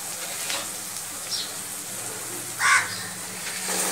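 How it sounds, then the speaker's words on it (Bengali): Spice paste with salt and turmeric is stirred in a pan over low heat, giving a soft continuous sizzle with faint scraping strokes and a brief clatter, heard alone with no voices. "এবার ভালো করে এর সাথে মিশিয়ে নেব।"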